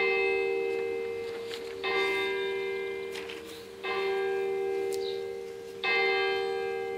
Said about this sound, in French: Vous entendez les cloches